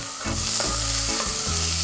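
Roughly chopped onion and carrots sizzle in a pot for a lentil soup while being stirred. The frying is a constant close hiss, broken by the scrape and clatter of stirring.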